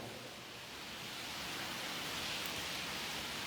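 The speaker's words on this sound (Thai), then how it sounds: "เวลามีงานก็ฝนก็จะตกแบบนี้แหละ" Steady rain falls at a Thai temple, a dense even hiss with a soft patter that holds constant throughout, with no voices.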